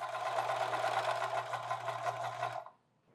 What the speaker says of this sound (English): And then it's time to sew.